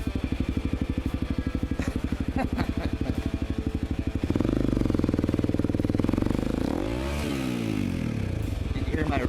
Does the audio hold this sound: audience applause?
no